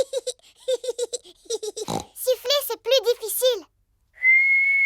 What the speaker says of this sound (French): Siffler, c'est plus difficile.